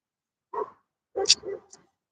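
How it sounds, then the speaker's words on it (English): A big German Shepherd barks from some distance, one short woof followed by a double bark and a faint yip, with quiet gaps between. "You hear that? Big ass German Shepherd."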